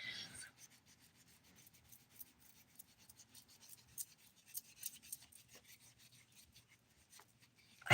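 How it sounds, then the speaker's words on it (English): Dip powder nails being filed, a faint rapid scratchy rasping in quick strokes at close range, with brief pauses. "I could literally just sit here all day and keep finding things to file on my nails."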